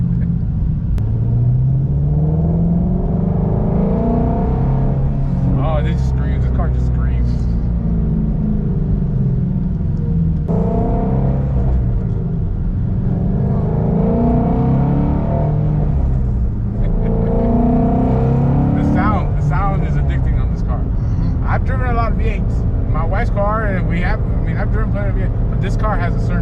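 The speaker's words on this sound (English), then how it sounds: "this car has a certain sound that no other V8s have." A Shelby GT350's flat-plane crank V8 rumbles and revs through a long stretch, rising and falling in pitch, with people talking over it much of the time.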